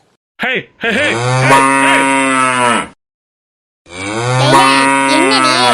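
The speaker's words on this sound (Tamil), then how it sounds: "மாடு கத்துதுடி எதுவும் அவுத்து கவுத்துட்டு ஓடிடுச்சான்னு தெரியல" Cow mooing in a Tamil cartoon, two long, loud, drawn-out calls close by, separated by a second of silence.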